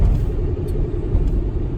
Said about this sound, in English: So now we're driving through a blizzard